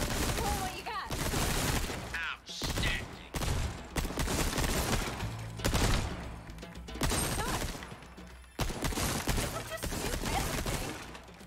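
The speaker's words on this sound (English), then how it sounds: "I'm gonna shoot everything." Gunshots at the shooting range in Resident Evil 4: repeated loud sharp shots in quick bursts with short pauses, some with shattering impacts of targets, mixed with occasional speech.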